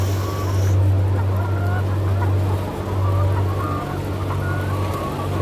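Laying hens in a large poultry farm facility housing 60,000 birds cluck and squawk in scattered calls over a loud, steady low mechanical hum.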